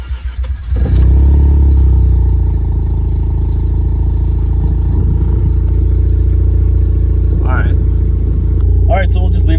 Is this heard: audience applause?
no